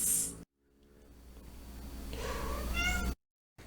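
A cat meows at a door, a rising, drawn-out call close by, with a short burst of noise before it and a cut to silence after.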